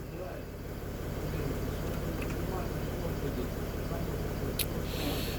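A Mercedes ML 350 W164 with a faulty automatic gearbox selector runs after starting, giving a steady low idling hum that stays even and continuous throughout.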